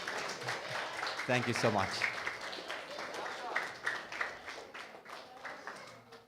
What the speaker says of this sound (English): Can we have a round of applause if we've really enjoyed these sessions?